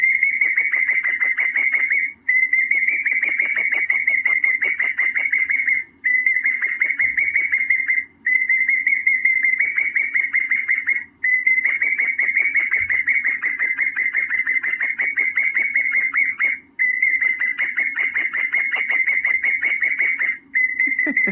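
A pet parakeet whistles loudly up close, giving long repeated phrases of shrill, piercing trills separated by short pauses.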